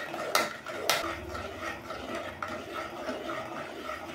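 A utensil stirs milk and sugar in a pan over medium-low flame, with two sharp metallic clinks early on, then soft scraping and clatter at low volume.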